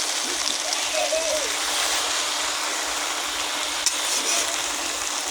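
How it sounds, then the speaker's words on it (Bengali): Spinach with eggplant and potato is stirred in a hot pan, producing a steady, moderately loud hissing sizzle with a faint voice-like murmur early on and one small click. "ভালো করে নেড়ে দিতে হবে।"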